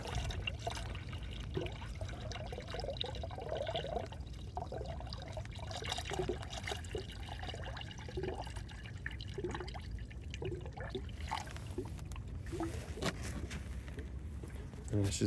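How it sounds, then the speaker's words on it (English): Coolant gurgles and trickles as it fills a Hyundai Genesis Coupe radiator during installation, a quiet continuous bubbling with irregular drips and pours, close by. "And it's just going to keep bubbling away."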